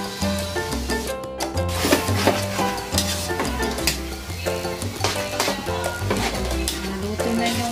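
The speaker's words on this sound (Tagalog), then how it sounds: "mixture ng eggplant at saka bagoong na isda. Lutuin lang natin siya." Eggplant and fish bagoong stir-fry in a pan, giving a steady sizzle broken by repeated scraping and stirring strokes of a utensil against the cookware.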